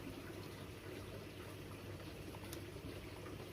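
Water flows steadily through an 11 mm HDPE pipe into an NFT hydroponic module, a faint continuous trickling wash with no distinct events.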